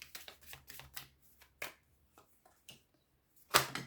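Tarot cards are shuffled by hand in a quiet room, a series of soft riffling bursts and flicks with short pauses, ending in a louder riffle.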